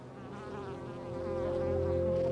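Bees hum around a hive at a small farm in Ethiopia, a close, sustained buzzing drone that grows slightly louder and steadier toward the end, with no talk.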